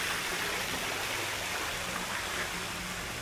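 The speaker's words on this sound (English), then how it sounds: "They got all these little fountains everywhere." Small water fountains splash in a steady, dense hiss of falling water that fills the outdoor space at a resort town on Phu Quoc, with no voices.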